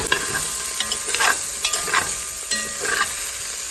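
About 1.5 pounds of sausage browning in a frying pan, a steady close sizzle of hot fat with several scraping strokes of a spatula stirring the meat at irregular intervals.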